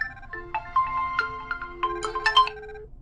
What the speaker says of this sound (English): can you hear the ringing sound?